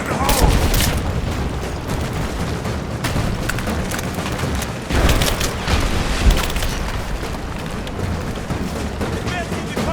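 Grenade blast amid a chaotic firefight in Rise of the Tomb Raider, with booms and crackling gunfire throughout and a louder burst near the middle, under shouted voices.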